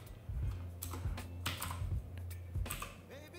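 A computer keyboard clatters with a handful of distinct, fairly loud keystrokes spaced irregularly over a low electrical hum, with no voices.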